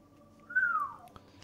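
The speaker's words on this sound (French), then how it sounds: "Et ce sifflement est..." A single clear whistle swoops up and then glides down in one smooth tone, soft and close against a quiet background, ending with a faint click.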